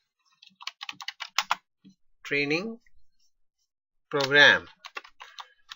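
Short bursts of computer keyboard typing as a folder name is entered, quick clicking keystrokes in clusters with a person speaking between them.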